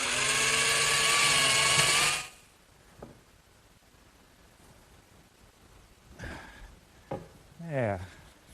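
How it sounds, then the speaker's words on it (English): A power drill runs loud and steady for about two seconds, drilling half-inch holes in a wooden box, then stops; a few faint knocks and brief voices follow in the quiet. "I'll just drill a couple 1/2 inch holes in the sides for the shaker pegs."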